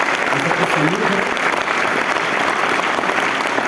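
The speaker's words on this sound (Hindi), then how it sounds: "एक बार जोरदार तालियों से हम आपके परिवार का सम्मान करते हैं, तालियां बजाकर।" Students give loud, steady applause honouring a Kargil War veteran's family at a school gathering, dense clapping filling the room throughout, with voices talking faintly underneath.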